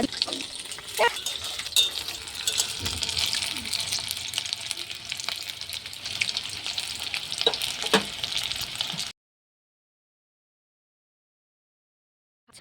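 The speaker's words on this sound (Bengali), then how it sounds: "তো দিদি ভাজছে সুন্দর লাল লাল" Pakoras deep-frying in hot oil give a steady, loud crackling sizzle for about nine seconds, broken by a few sharp pops, before the sound cuts to silence.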